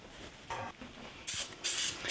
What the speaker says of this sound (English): Now I'm using a baker's spray